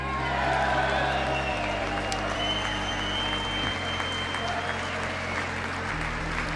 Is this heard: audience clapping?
yes